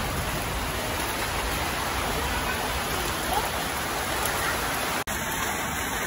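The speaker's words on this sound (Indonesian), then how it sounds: "sekarang hujan lagi" Steady rain falling outdoors, a continuous even hiss with no talk over it.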